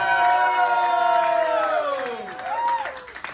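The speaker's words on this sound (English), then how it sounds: "Let's give Phil Lawrence a great round of applause." A crowd at a Queens Village Republican Club gathering cheers and whoops loudly for Phil Lawrence, voices rising in sustained shouts that taper off, with a few calls standing out near the end.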